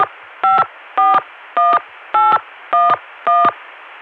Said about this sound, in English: let's call 454-1811 again to go back to the Chicago dial tone